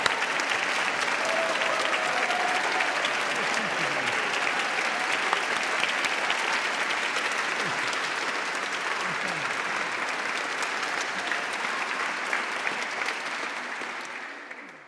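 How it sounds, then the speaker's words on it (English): A concert audience claps for the staff after a choir performance, dense sustained applause that fills the room at a steady level before thinning slightly at the very end. "can we just have a clap for the staff, please?"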